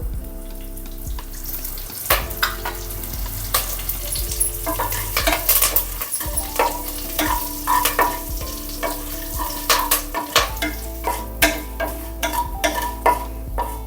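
Cinnamon, cloves and curry leaves crackle and sizzle in hot oil for beetroot kurma, with steady frying hiss and frequent sharp pops and spatters, close and fairly loud, with occasional stirring clinks and no talking.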